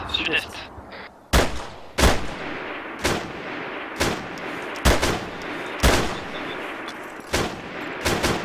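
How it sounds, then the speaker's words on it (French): Enemy artillery fire in the Arma 3 video game: sharp, loud booming impacts land roughly once a second in a steady series, with brief faint chatter early on. "Pour Charlie, l'artillerie ennemie balance des cartes de mine au sud-est"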